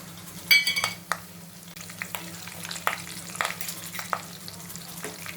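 Cumin, turmeric, asafoetida and other spices fry in hot oil in a pan, sizzling steadily with a bright burst at the start and brief scraping as they are stirred, close and without voices.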